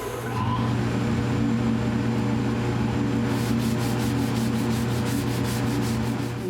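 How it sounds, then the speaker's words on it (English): A wooden inlay cutting board being sanded, likely with a power sander: a continuous, even rubbing drone at close range that grows slightly brighter partway through, with no talking. "There we are, ready to sand down and finish."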